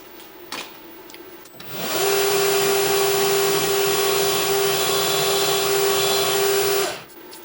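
A machine spindle drilling into a metal workpiece, whining up to a steady loud tone for several seconds before spinning down, preceded by a few faint clicks and taps.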